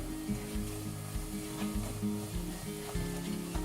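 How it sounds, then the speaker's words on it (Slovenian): Apples stewing in a pan for an apple foam dessert with cinnamon, giving a steady soft sizzle and bubbling with faint stirring scrapes, continuous and fairly quiet throughout. "Ter jabolka dušimo, da nastane jabolčna pena."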